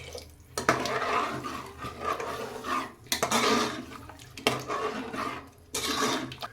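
Homemade coconut milk from ground coconut being poured into a cooking pot for wedding-style ghee rice, a steady liquid rush that swells and breaks off in several pours over a few seconds.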